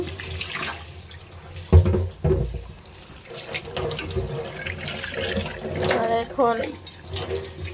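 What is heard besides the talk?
water filling a flask from a tap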